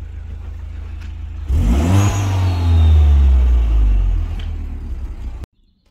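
A Citroen DS3 Performance fitted with a Cobra decat exhaust revs hard and close, its engine climbing from a steady idle to a loud, rising rumble, holding high, then cutting off abruptly.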